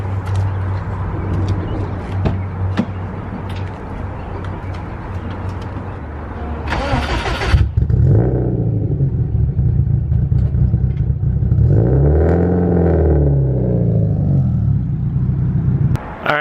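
A Nissan 240SX is started in a garage after a long cold winter: a broadband crank burst, then the engine catches and idles with rising and falling revs, loud and close, with no talk over it.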